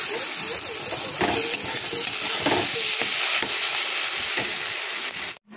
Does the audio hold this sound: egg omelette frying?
yes